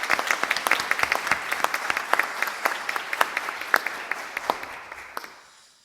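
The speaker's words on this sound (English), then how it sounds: "So we have a round of applause for all new members." A ceremony audience gives steady applause for new college members, a dense patter of many hands clapping that holds evenly for several seconds before tapering off.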